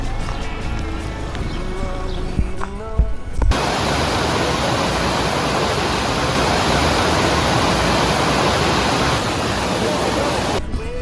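A loud, steady rushing roar of Aydınpınar Waterfall in Turkey fills the scene after a few seconds of voices and handling noise.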